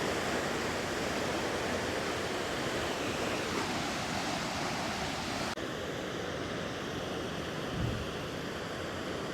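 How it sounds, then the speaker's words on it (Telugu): Water rushes fast through lifted dam gates in a steady, loud, broadband roar with no pauses and a faint wind buffet toward the end. "చూడండి వాటర్ ఎంత స్పీడ్గా వస్తున్నదో"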